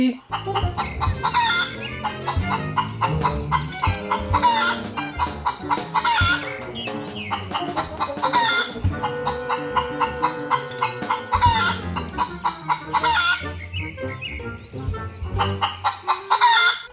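Hens cluck and a rooster crows repeatedly over a busy, dense backdrop, with the birds loud and close throughout.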